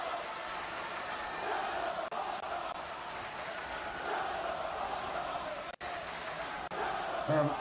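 Large wrestling-event crowd roaring and cheering in a steady, loud wash of noise that holds throughout, with scattered shouts in the mix.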